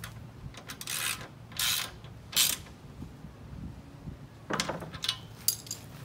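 A ratchet driving 1/4-20 bolts with washers and lock washers into solar panel brackets, heard as short bursts of clicking ratchet strokes, moderately close with quiet pauses between them and no talking.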